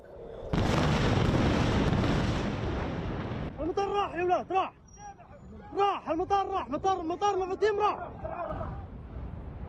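Iranian ballistic missiles striking nearby in Israel produce a loud, sustained roaring blast that fills the first half, followed by frightened shouting voices over a lingering low rumble.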